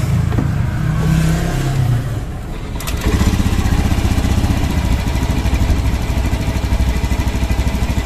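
A fuel-injected motorcycle engine that struggles to hold a steady idle fires up about three seconds in, after a brief stretch of rougher mechanical noise, then keeps running close by in a continuous, loud, throbbing idle to the end.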